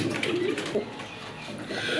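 Satin pigeons, a hen and a cock kept as a pair, coo softly at close range in low rolling calls, with a voice talking over them.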